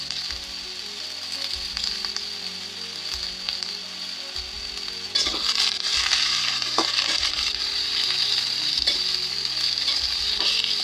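Brinjal and onion fry in a pan while being stirred, giving a constant bright sizzle that swells louder partway through, with scraping and clinking of the spoon against the pan throughout.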